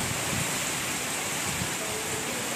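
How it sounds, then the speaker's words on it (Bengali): Heavy rain lashing down in hilly country during a storm, strong wind tossing the trees, forming a dense, steady roar with no pauses. "অনেক জোরে বৃষ্টি হচ্ছে, অনেক জোরে হাওয়াও হচ্ছে"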